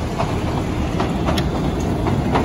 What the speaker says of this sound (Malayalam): ട്രെയിന് പോകുന്നുണ്ട്